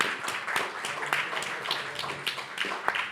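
A small seated audience at a short-film round table gives brief, light applause for a film producer, a scattered patter of claps at moderate distance.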